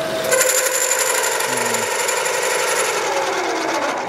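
A Chandler boring and facing head cuts metal on a machine with oil applied, giving a loud, steady high-pitched screech and whine throughout, close and continuous with no talking.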